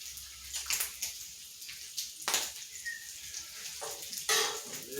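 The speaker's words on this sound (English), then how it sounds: "Now she's starting to sizzle." Bacon sizzling and crackling on a hot griddle in irregular bursts, heard up close with quieter gaps between.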